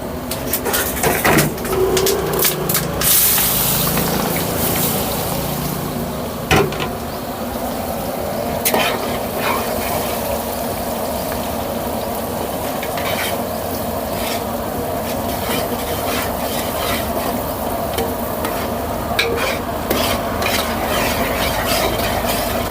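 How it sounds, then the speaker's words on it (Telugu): Onions frying in butter in a large pot of hotel-style biryani for about 70 people, a steady sizzle running throughout while a spoon stirs and scrapes with clanks and knocks close by. "ఉల్లిపాయలని ఒక ఐదు నిమిషాలు బ్రౌన్ కలర్ వచ్చేంత వరకు ఫ్రై చేసుకుందాం"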